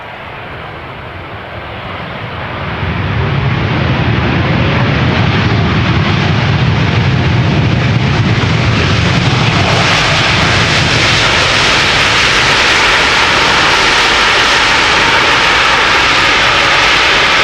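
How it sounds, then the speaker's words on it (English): A United Airlines Boeing 787-8 Dreamliner arriving at Amsterdam Schiphol on a sunny day, its jet engines building into a loud, steady roar that holds as the aircraft passes nearby. "in the foreground we have a Dreamliner that is returning from Chicago"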